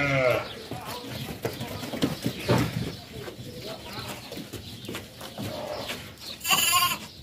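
Several white lambs bleating close by on a small farm, overlapping high wavering calls with someone speaking between and under them, and one loud cry near the end.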